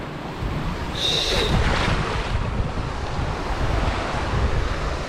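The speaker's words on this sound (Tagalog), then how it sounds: "Ang alon no." Ocean waves surge and break steadily against a storm-littered shore, with a loud continuous wash and heavy wind buffeting the microphone throughout; no one speaks.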